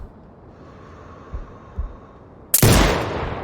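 A sniper rifle fires once in the video game Sniper Ghost Warrior Contracts 2, a sudden loud blast that follows a quiet stretch with a low hum and a couple of soft thuds.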